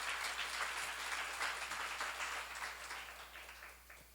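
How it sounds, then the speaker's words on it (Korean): Applause from a congregation at a church seminar on the Book of Jeremiah, a steady wash of clapping hands heard from a distance and quite faint, tapering off gradually toward the end. "박수로 하시죠"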